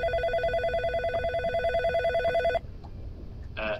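A telephone rings with a steady, warbling electronic ring that repeats rhythmically and then cuts off abruptly, leaving quiet room noise and a faint rustle.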